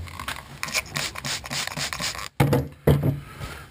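Rapid, gritty rubbing of a cloth over the surface of a GM climate control button, dirty with mud and grease, heard close up in steady back-and-forth strokes, then two brief sharper scrapes after a short pause.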